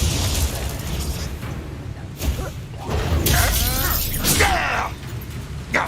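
Magical spell effects from Hogwarts Legacy, including Revelio, come through as a shimmering, crackling burst with sweeping whooshes and sparkling chimes, rising and falling over several seconds at moderate loudness with no talking.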